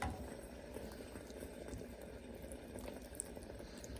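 Water simmers quietly under a glass bowl of melting chocolate, a soft steady bubbling wash that runs evenly throughout with no talking.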